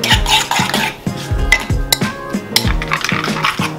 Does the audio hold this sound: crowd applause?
no